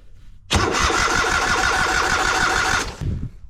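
A motorcycle engine being troubleshot for a breakdown cranks and catches, then runs in a loud, steady rumble for a few seconds before cutting out abruptly, followed by a brief sputter, close by with no talk.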